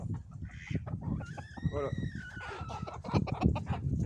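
Young Brahma, Sebright, Silkie and Pekin chicks being moved, with soft clucking and chirping calls over rustling and handling noise, while a person speaks briefly.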